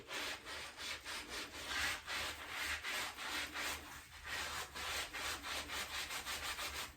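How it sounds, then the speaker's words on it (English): A dug glass bottle being scrubbed all the way around, giving steady rhythmic rubbing strokes, loud and close, about two per second throughout with no talking. "I take just a good scrubbing, just a good scrubbing all the way around this bottle"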